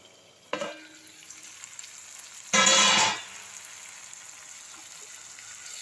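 Tomatoes sauté in a pan for hotel-style okra tamarind curry, with a short scrape, then a loud burst of sizzling stirring lasting under a second before settling into a faint, quiet simmer.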